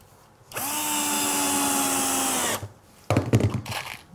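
A power drill drives a screw through a 2x1 batten into pine plywood on a workbench, one steady whining run of about two seconds, close and loud, followed by brief clattering handling noise.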